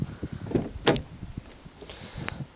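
A heavy Volkswagen Polo car door opens with a single sharp mechanical clunk of the latch, close by, amid light handling noises and soft knocks.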